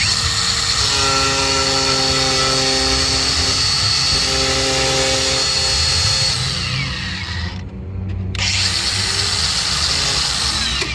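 A power tool trims a fiberglass side skirt on a drift car, a loud, close whining buzz with pitch-shifting tones, a brief drop near the end and then a resumed grinding hum; no talking.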